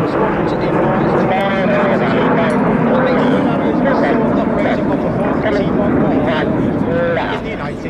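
Red Arrows jets at the Royal International Air Tattoo air display give a continuous loud roar under wind buffeting, while a commentator talks over a public address.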